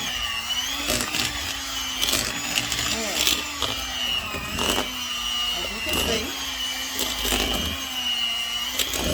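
A kitchen blender whirs loudly and continuously, its motor pitch wavering as food churns inside, with brief surges and dips in pulses and a person talking over it.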